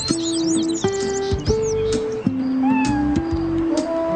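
A cat gives a series of repeated, drawn-out meows close by, while high bird chirps twitter in the background.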